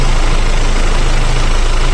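Boat engines idling on a sailing yacht, a loud steady low rumble droning evenly throughout, close by and alone with no voices.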